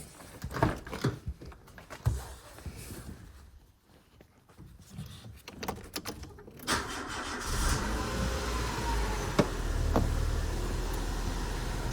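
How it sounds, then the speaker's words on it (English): A 2004 Nissan Micra K12 being started after an oil and filter change: a few clicks and handling noises, then the starter cranks and the engine catches, settling into a steady, quiet idle. "And we'll start the car."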